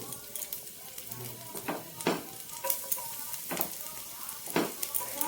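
Chopped garlic fries in a spoonful of white oil for a vegetable soup, giving a busy crackling sizzle with repeated sharp spatula scrapes and clatters against the pan at an irregular rhythm.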